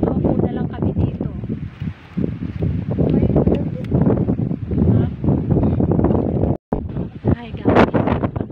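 Strong gusts batter the microphone on the summit of Mount Tarak during a trail hike, making loud, continuous rumbling buffets with a brief drop-out. Voices speak underneath.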